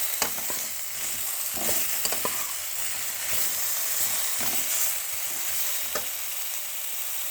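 Mixed vegetables frying with a little turmeric in a pan, a steady close sizzle and hiss with occasional stirring scrapes and clinks throughout, no talk.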